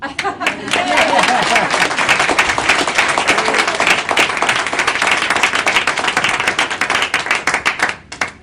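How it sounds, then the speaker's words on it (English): Sustained clapping from a gathered group at a governor's infrastructure bill signing, crisp and close, continuing steadily for several seconds before tapering off. "I feel like we should clap."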